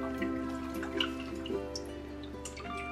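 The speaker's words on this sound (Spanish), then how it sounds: "Miren, está cayendo el agua." Excess water drips and trickles from soy-soaked food set in a colander for Chinese chow mein with shrimp and chicken, a steady patter of small drops throughout with no talk.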